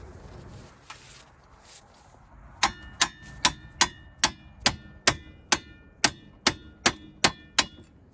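A series of sharp metallic hammer strikes, about a dozen, knock a brake rotor off the rear hub backing plate of a Kia Sorento AWD, landing in a steady rhythm, ringing brightly close by after a quiet start.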